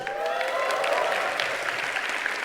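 An audience at a live comedy show claps for a guest in the crowd, a continuous, fairly close round of applause that holds steady from start to finish without speech.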